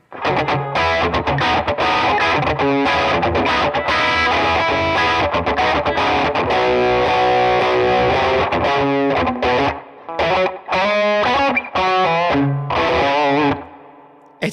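Electric guitar on the bridge pickup driven through a treble-boosted overdrive pedal, giving a honky 1970s rock record tone; loud, continuous playing of riffs and chords with brief gaps near the end.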